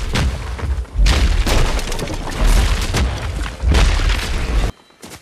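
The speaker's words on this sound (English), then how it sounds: "Start destroying these structures." Repeated heavy booms and crunching impacts as structures are smashed apart in the video game Fortnite, loud dense bursts in quick succession, ending abruptly in near silence.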